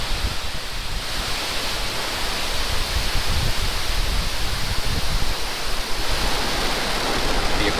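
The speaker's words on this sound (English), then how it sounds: "Ignition. Liftoff. Go Falcon, go GPS." A Falcon 9 rocket's engines roar at liftoff as a loud, continuous broadband rumble that holds steady and slightly builds throughout, with no voices over it.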